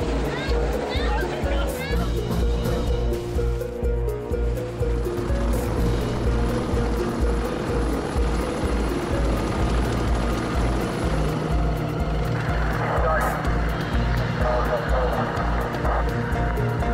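Miami station Coast Guard helicopter flying, a steady rotor and engine drone throughout, heard beneath continuous narration.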